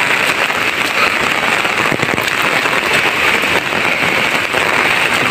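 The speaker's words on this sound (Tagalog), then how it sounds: "Lakas ng hangin, lakas ng ulan." Heavy rain from Typhoon Nika pours down continuously in a dense, loud hiss, with gusting wind roaring beneath it and no voices.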